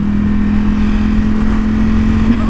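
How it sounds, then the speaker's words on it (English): A Ducati motorcycle engine runs loud and close with a steady, even drone. Its pitch holds fairly constant, and no one speaks over it. "I'm riding a Ducati"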